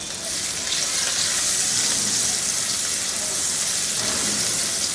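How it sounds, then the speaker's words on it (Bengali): Two chopped medium-sized local onions fry in oil in a wok over high heat, giving a steady, dense sizzle and hiss that holds throughout at an even level. "এর মধ্যে 2টা মাঝারি সাইজের দেশি পেঁয়াজ কুচি একটু ভেজে নিব"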